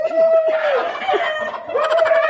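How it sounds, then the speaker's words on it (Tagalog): Chickens on a farm in Kuwait cluck and crow close by, loud drawn-out rooster-like calls overlapping with choppy clucking from the flock, no talk. "Grabe, dami manok dito pero maliliit lang."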